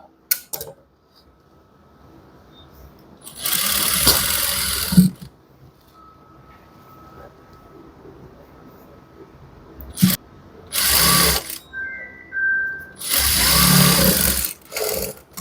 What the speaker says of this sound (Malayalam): ഒരു അര ഇഞ്ചിൽ മടക്കിയിട്ട് താഴ്ഭാഗം കണ്ടോ ഇങ്ങനെ സ്റ്റിച്ച് ചെയ്ത് കൊടുക്കും നമ്മൾ